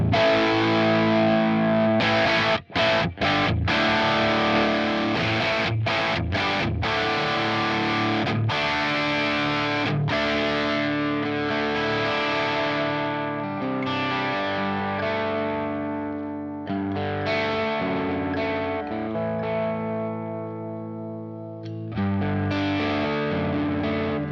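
A heavily distorted electric guitar through a Line 6 Helix plays chords and riffs loudly, the volume and gain swelling and dipping as the amp sag setting changes, with brief silent gaps between phrases.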